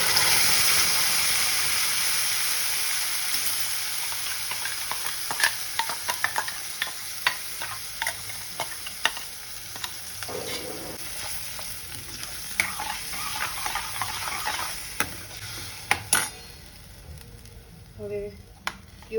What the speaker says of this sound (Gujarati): હવે પ્યુરીમાંથી તેલ છૂટે ત્યાં સુધી આપણે એને કૂક થવા દઈશું.